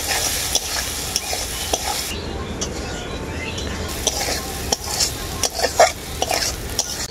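Potatoes with turmeric and dry chili powder stir-fried in a pan for a bitter gourd dish, a steady close sizzle broken by irregular scrapes and taps of a spatula against the pan.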